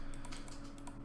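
Computer keyboard keys pressed in steady bursts while testing an Asteroids game being built in a creation workshop; quick, close, moderately loud clicks over a faint background hum, no voices.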